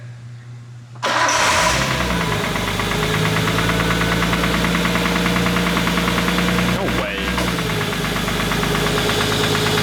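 An RB engine cranks and catches, then runs with a rough, rhythmic knocking and irregular clacks; a voice speaks briefly over the close, loud running engine.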